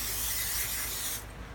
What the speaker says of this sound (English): you want to use some nice spray